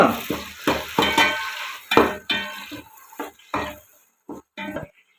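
Tomatoes hit hot oil in a pan for biryani, giving bursts of sizzling and clattering stirs, with utensil clinks against the pan in short, uneven strokes that fade toward the end.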